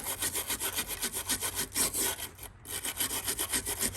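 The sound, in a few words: scrubbing old Volkswagen Beetle part with stainless steel brush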